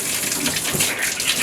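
Water gushes steadily from a three-handle tub faucet as the line is bled of pressure after the supply is shut off, a continuous rushing, splashing spray that stays loud and even throughout.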